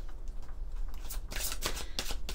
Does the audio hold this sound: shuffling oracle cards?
yes